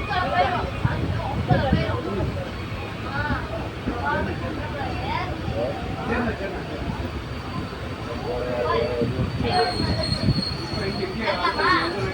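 Sengottai Superfast Express pulling away, its wheels squealing in high drawn-out tones over a steady rumble of the rolling train, heard from on board, with voices talking throughout.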